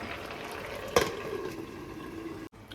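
A pot of breadfruit curry simmers and bubbles steadily at close range, with a brief sharp clink partway through and a sudden drop near the end.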